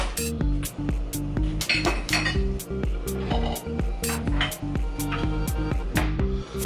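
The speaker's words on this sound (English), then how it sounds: "So I'm just gonna mix the brown sugar and the fish sauce." Brown sugar and fish sauce stirred together for a red curry chicken, with a steady run of close, bright clinks of utensil against dish repeating rhythmically throughout.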